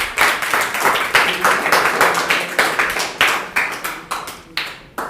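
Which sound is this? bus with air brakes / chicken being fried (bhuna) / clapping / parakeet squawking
clapping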